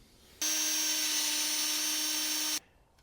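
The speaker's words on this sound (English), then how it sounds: "you can just get it in line and drill through" A power drill runs steadily for about two seconds at a constant high whine, drilling through acoustic panel frames, starting and stopping abruptly, close and loud.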